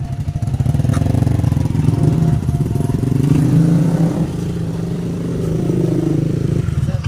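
A Yamaha Sniper 155 motorcycle fitted with a full system muffler and silencer runs steadily nearby, a low, even engine drone with a faint rattle that stays fairly constant throughout.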